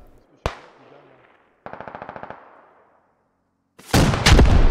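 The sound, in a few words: RPG rocket fired in a video game (SquadOps)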